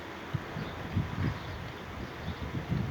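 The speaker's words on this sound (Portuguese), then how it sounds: "Ó, escuta esse vento." Strong gusting wind ahead of an approaching storm in Presidente Prudente, a steady broadband rush with low rumbling gusts pulsing through the whole stretch, fairly close to the microphone.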